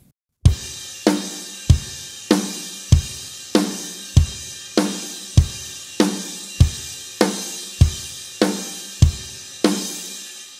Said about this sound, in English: It's a simple beat. It's just 1 and 3 on a bass drum,